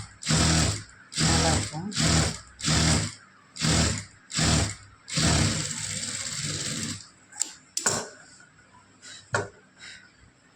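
Sewing machine stitching a quarter-inch folded hem on straight-grain fabric for a lined blouse, in repeated loud bursts of rapid mechanical whirring with short pauses, then a steadier run and scattered clicks; a voice speaks briefly.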